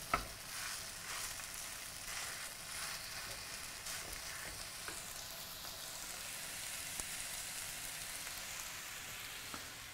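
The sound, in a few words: beef frying in a pan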